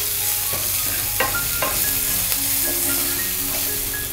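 A pinch of hing, curry leaves and chopped green chillies mixed into hot oil for leftover idli chaat, a bright continuous sizzle with a few crisp spatters and spoon taps, close, with no voices.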